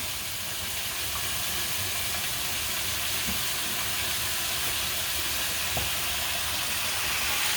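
Chicken pieces deep-frying in oil inside a Presto Fry Daddy fryer, a loud, steady sizzling hiss that fills the whole stretch with little change, and no one speaking.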